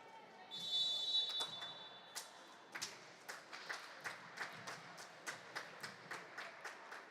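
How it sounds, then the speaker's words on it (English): A volleyball team claps in steady rhythm for its server during a women's exhibition match in an indoor hall, the sharp claps repeating about twice a second after a brief squeak and some hall noise. "Gold team clapping in their server, Lauren Cox."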